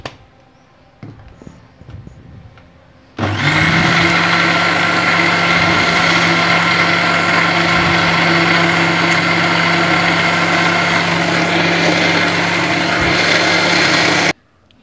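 Kitchen mixer grinder blending a chutney of chayote peel starts abruptly after a few quiet seconds of small clinks, then runs as a loud, steady motor whir before cutting off at the end.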